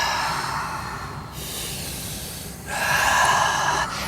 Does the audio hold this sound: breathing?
yes